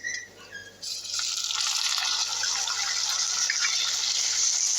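Tomatoes dropped into a pan of browned onions set off a sudden, steady, loud sizzle that begins about a second in and carries on without a break to the end, with no talk.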